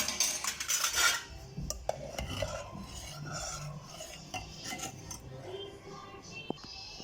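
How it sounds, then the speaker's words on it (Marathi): Metal utensils clink and scrape while a hot tempering is poured into warm dal in a home kitchen, with a rasping, clattering burst near the start followed by lighter scattered taps and rubs. "त्यामध्ये आता ही फोडणी आपण ओतून घेणार आहोत"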